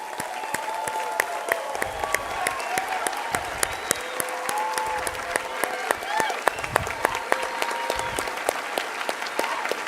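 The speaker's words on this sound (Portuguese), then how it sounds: "que se colocasse de pé e aplaudisse os missionários do sul do Brasil" A standing church auditorium audience applauds missionaries from southern Brazil, loud sustained clapping with sharp individual claps over a crowd murmur, with voices heard along with it.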